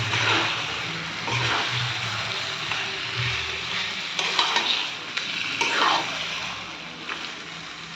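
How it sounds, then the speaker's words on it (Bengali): Chicken is stirred in a hot wok, with steady sizzling and frying texture plus scraping spatula strokes running throughout at a close, moderate level; no talk over it. "এই যে কড়াইতে মাংসটা দিয়ে দিয়েছি, এখন ওকে ভালো করে নাড়িয়ে নেব।"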